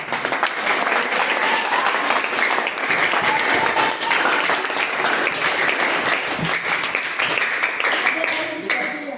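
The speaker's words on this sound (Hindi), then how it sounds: "दोनों टीमों के लिए एक बार तालियां बजाएं" An audience at a school quiz contest claps for both competing teams, producing a thick, continuous roar of applause that stays loud throughout, with voices faintly mixed in.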